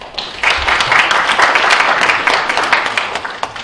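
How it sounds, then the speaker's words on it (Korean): An audience at a Korean disaster-relief policy forum gives loud, sustained applause to welcome a speaker. Dense clapping from many hands swells after a brief start and holds steady for several seconds. "큰 박수로 맞아주십시오."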